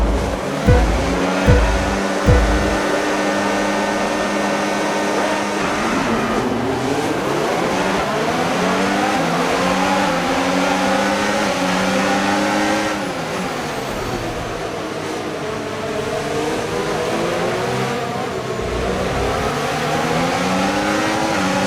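Formula One cars in the F1 25 racing game blip their engines on the grid, then launch together at the start, a loud, dense roar of many engines rising and shifting through gears, sustained throughout without talk.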